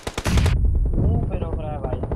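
Video game gunfire in a rapid automatic burst, loud and close, cutting off abruptly after half a second and leaving a voice talking over a fading tail.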